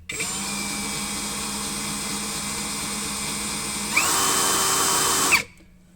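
A CAT DX12 18 V brushless cordless drill spins a bit in its chuck with a steady high whine that jumps to a louder, higher speed near the end before cutting off abruptly.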